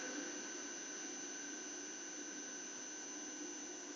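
A CNC machine spindle spins at 6,000 RPM while cutting spinners, giving a steady, faint, high whine with constant tonal lines and no change in level across the clip.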